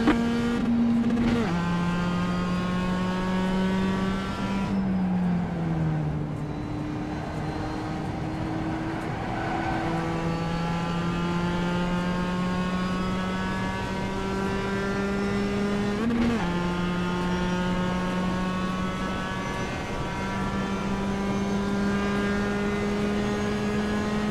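Mazda MX-5 race cars lapping Summit Point in iRacing, a loud close engine drone with clear rising and falling pitch through upshifts and downshifts, running continuously with no talk.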